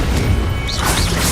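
A Confringo blasting spell cast in Hogwarts Legacy gives a loud crashing blast amid busy game noise, with a rising whoosh and magical swirl following.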